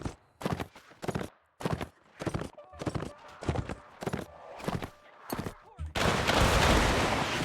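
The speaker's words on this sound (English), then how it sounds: "Go ahead and all fire at will if you guys have shots." Musket volleys crack out in Mount & Blade Warband during an American Civil War battle, a run of separate loud shots in an uneven rhythm, followed by a dense roaring burst of massed fire at the end.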